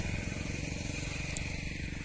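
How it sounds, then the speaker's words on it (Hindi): Engine guard on a five-year-old Maruti Suzuki S-Cross diesel rattling during offroad driving, a steady low buzzing rattle over the running engine drone, close and continuous. "इंजन गार्ड का ही साउंड है।"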